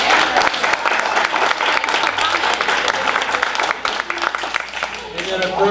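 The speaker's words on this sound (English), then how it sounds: "Let's give Gino a round of applause" Sustained audience applause fills the room at a public meeting, loud and continuous throughout with dense clapping, plus brief voices underneath near the end.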